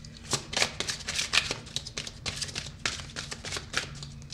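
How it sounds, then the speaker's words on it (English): Tarot cards are shuffled by hand, giving a quick run of crisp riffling bursts and soft slaps, close and moderately loud with no talking. "I always shuffle until a card organically drops out."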